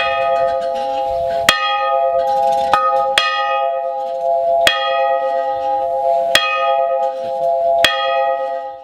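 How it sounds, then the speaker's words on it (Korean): A historic church bell in a bell tower of Daejeon-ri rings clear and loud, six sharp strikes spaced about every one and a half seconds, each leaving a long shimmering hum that carries under the next. "세월이 지나도 변함없이 맑게 울리는 종탑의 소리."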